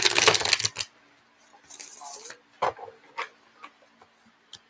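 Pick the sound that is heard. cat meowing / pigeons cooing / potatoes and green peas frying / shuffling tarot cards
shuffling tarot cards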